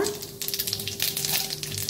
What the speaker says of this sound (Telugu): వేడైన తర్వాత పోపు దినుసులు వేసుకుందాం. కాస్త ఆవాలు, కాస్త జీరా,